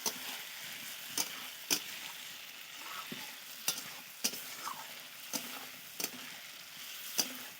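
Mutton being sautéed without water in a home kitchen pan, a faint steady sizzle broken by periodic sharp spatula scrapes and stirring clicks, close and quiet with no voices.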